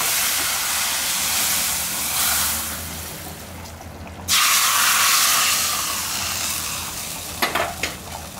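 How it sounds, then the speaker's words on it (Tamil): A hot tempering of curry leaves is poured into a prawn gravy, giving a loud hissing sizzle that fades, briefly drops away, then surges again before settling with a few stirring clinks. "இப்போ இத தாளிச்சு இதல கொட்டிக்கலாம்"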